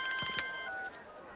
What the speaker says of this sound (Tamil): மச்சான் ஃபோன் அடிக்குதுங்க.